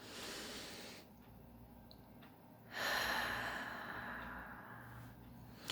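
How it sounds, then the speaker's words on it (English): A single slow, deep breath drawn in, quiet and close, followed by a soft sighing exhale, with no voices. "So let's go ahead and take a deep breath in."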